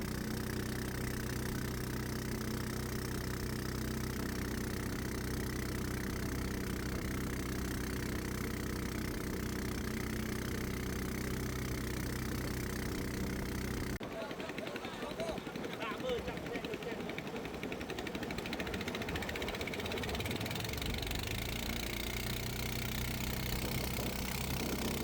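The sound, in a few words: motorboat engine running on Tonle Sap lake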